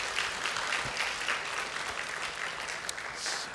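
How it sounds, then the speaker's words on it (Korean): A church congregation applauding during a Sunday service, a dense, even wash of many hands clapping together throughout, moderately loud and filling the room. "우리 다시 한번 애써주신 모든 분에게 한번 박수 한번 합시다"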